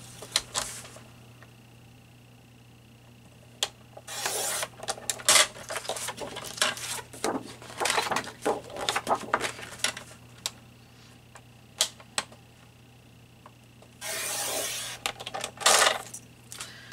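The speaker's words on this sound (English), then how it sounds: "let's cut the branding strips off." Paper cutting as branding strips are trimmed off Carta Bella scrapbook paper on a tabletop, with scattered sharp clicks and taps and a few louder brushing bursts over a quiet background hum.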